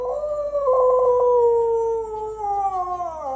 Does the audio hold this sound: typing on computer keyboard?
no